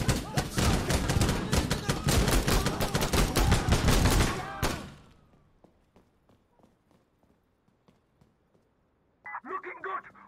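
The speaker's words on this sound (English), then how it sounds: "Let's shoot him!" Dense, rapid gunfire from a firefight in the video game Insurgency Sandstorm rattles loudly for about five seconds, then thins to scattered distant shots, with a voice shouting briefly near the end.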